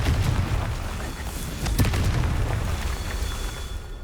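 Confringo fire-blast spell explosion in Hogwarts Legacy, a dense booming burst with a sharp crack near the middle, heard over a continuous loud game rumble and effects.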